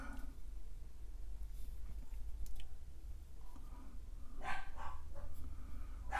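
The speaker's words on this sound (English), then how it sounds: "Wow, that's an excited dog down there." Excited dog barking from downstairs, several sharp yelping barks in bursts toward the end over a constant low hum, somewhat distant and moderately loud.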